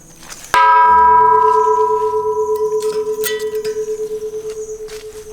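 A bell at a memorial for motorbike riders on the Mae Hong Son Loop in northern Thailand is struck once, giving a loud, clear metallic clang that rings on and decays slowly with a pulsing shimmer.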